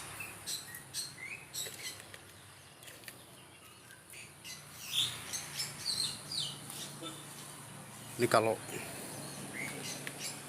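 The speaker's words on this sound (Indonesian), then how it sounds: "Burung jagal Papua ini suaranya bagus." Bright, varied whistles and chirps from a Papuan butcherbird ring out intermittently, with a loud burst of song near the end, while a person speaks briefly.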